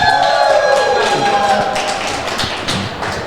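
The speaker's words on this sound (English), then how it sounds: "I think he deserves the loudest round of applause of the evening." Bulls fans in a live podcast audience applaud guest Noel Friedman: a dense, steady wash of clapping fills the whole stretch at close range, with a sustained tone ringing through it.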